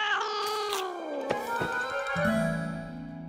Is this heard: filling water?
no